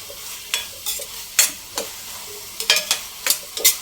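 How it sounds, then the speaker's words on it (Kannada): Ginger garlic paste sizzles in a hot pan while being stirred for an egg roll filling, with a steady frying hiss cut by sharp spoon scrapes and clinks that come quicker toward the end, close and clear. "ಶುಂಠಿ ಬೆಳ್ಳುಳ್ಳಿ ಪೇಸ್ಟ್ ಹಾಕ್ಕೊಂಡು ಅದು ಸ್ಮೆಲ್ ಹೋಗೋವರೆಗೂ ಬಾಡಿಸ್ಕೋಬೇಕು ಶುಂಠಿ ಬೆಳ್ಳುಳ್ಳಿದು"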